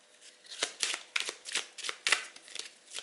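Oracle cards being shuffled by hand at close range: a quick series of soft, crisp riffling flicks and slaps in an uneven rhythm, fairly quiet, with no talking.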